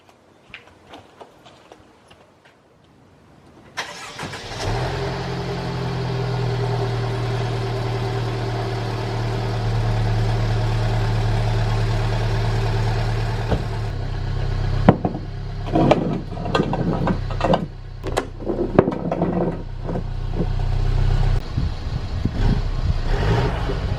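A Mercedes C300 W205 with its exhaust muffler deleted starts up with a loud, deep rumble and settles into a steady idle, then gives a few sharp revs near the end.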